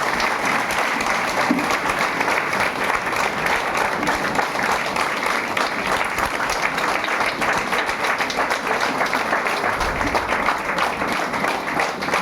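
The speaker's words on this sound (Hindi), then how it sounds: "सुमित कुमार जी के लिए एक जोरदार ताली बजाएं।" A hotel meeting audience in Ranchi breaks into sustained, dense applause, many hands clapping together in a steady roar that holds evenly throughout without any break.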